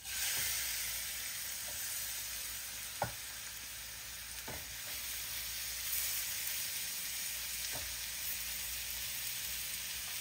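Shrimp fry in oil in a skillet, a steady soft sizzle and hiss throughout with a few faint clicks and scrapes, no voices.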